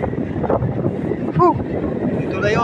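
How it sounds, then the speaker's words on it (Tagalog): Strong gusting wind at Tondalegan Beach roars steadily across the microphone for the whole stretch, with a brief wavering tonal whistle near the middle. "Wow, lumalakas ang hangin."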